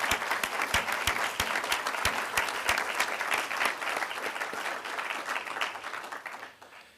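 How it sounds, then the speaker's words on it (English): Audience applause at a military change of command ceremony: a crowd claps steadily with a few sharp, distinct claps standing out up front, then the sound tapers off toward the end. "Please join me in a round of applause."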